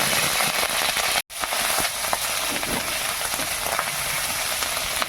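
Whole cumin seeds sizzle as tempering in a little hot oil, a loud, crackling close-up fry with small pops, briefly cut off by a sudden gap of silence before resuming steadily; no voices.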